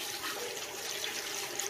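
Running water from a tap splashes steadily while hands are washed in a sink, a continuous soft hiss with no talking.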